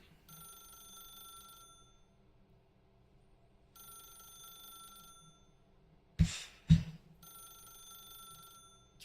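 A telephone rings in The Stanley Parable, repeating in evenly spaced bursts of ringing separated by pauses, with two short, loud knocks in one of the gaps.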